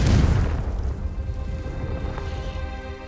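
A Confringo blasting curse detonates in Hogwarts Legacy, a loud booming burst at the start that rumbles and fades over a few seconds, with no voices.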